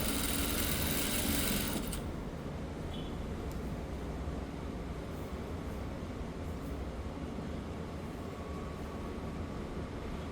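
A sewing machine stitches a seam on a shirt being altered for a looser fit, its steady whirring drone loud for the first two seconds and then easing to a quieter, continuous hum.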